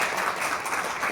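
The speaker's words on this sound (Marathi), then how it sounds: "एकदा जोरदार टाळ्या झाल्या पाहिजे" An audience at a women's event breaks into brief, dense applause, a steady wash of many hands clapping at once that fills the space without any voice rising over it.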